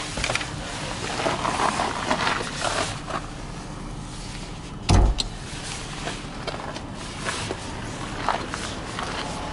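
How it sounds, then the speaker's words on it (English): Hood of a 2015 Dodge Journey Crossroad with a 3.6 liter V6 being popped open, a single sharp thunk of the latch release midway through, amid steady outdoor background noise and faint shuffling. "I'm going to go ahead and pop the hood and we're going to check out the engine"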